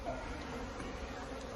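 Honeybees buzz close by during a hive removal, a steady, faint, continuous hum without pauses.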